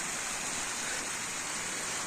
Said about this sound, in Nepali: आहा पानीको छारा